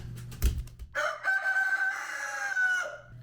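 A rooster crows in a long, loud, sustained call close by inside a chicken coop, with a short thump beforehand and other chickens faintly in the background.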